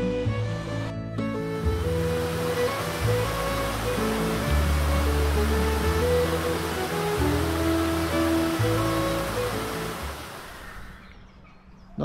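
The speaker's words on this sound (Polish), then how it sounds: "No idziemy szukać ukrytego wodospadu." Scaleber Force, a hidden waterfall in the Yorkshire Dales near Settle, roars as a loud, steady, broadband rush of falling water for the whole stretch, close by and with no voices over it.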